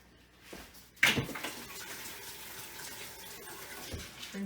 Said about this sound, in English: Rinse the egg off my hands.